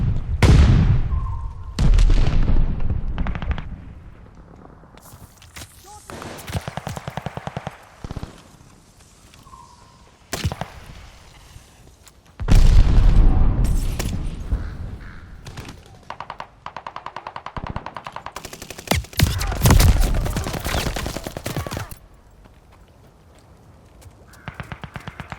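Mortar fire in the Mass Effect Legendary Edition video game: heavy gunfire bursts and booming impacts in loud, repeated clusters across a busy combat soundscape, with little pause between volleys.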